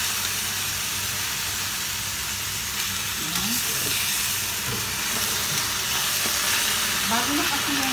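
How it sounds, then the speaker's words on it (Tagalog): Spinach is sautéed in a pan on a new stove, giving a constant, loud sizzle and steamy hiss throughout, with faint voices and small clinks underneath. "Gisa-gisa na."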